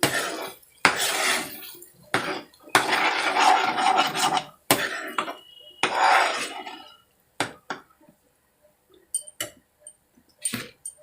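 Two beaten eggs are stirred into a pan with fried onion, tomato and spices, the spatula rasping and scraping against the metal in bursts of steady strokes, broken by brief pauses and lighter taps near the end.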